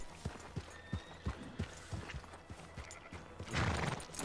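Hooves of a horse in Red Dead Redemption 2 clip-clop at a steady walking pace, about two crisp strikes per second, close by, with a brief noisy rush near the end.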